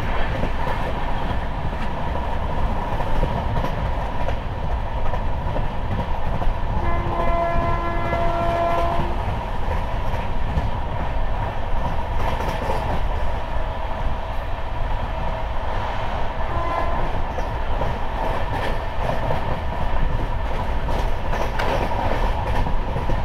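Sealdah–Jalpaiguri Road Humsafar Express running, heard from on board as a steady loud rumble with rhythmic wheel clatter and a brief horn blast near the middle, no talking.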